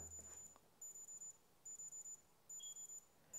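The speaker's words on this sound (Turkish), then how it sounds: "Şimdi alarm çalacak iyi dinleyin." Amazfit Neo Retro smartwatch alarm, groups of four high-pitched electronic beeps repeating in a steady pattern, thin and fairly quiet against a silent room.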